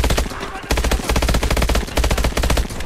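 Rapid automatic gunfire from a weapon in the video game Call of Duty Advanced Warfare, loud close bursts of fast repeating shots with a brief gap, no talk over them.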